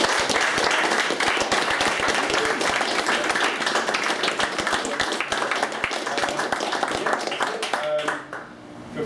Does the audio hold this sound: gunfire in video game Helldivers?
no